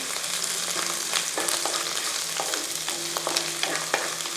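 Ginger and green chillies fry in hot oil for a Kerala fish curry, a loud, continuous bright sizzle broken by a few stirring clicks against the pan, close and with no speech.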